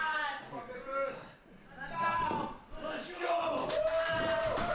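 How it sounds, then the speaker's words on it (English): Crowd cheering and yelling in a wrestling video game rises in waves under a commentator's voice, with swelling roars and bellows between quieter dips. "Ramirez has got the crowd fired up"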